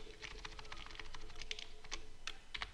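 Rapid, light keystrokes patter on a computer keyboard as a chart title is typed into an Excel spreadsheet, close and steady with no voices.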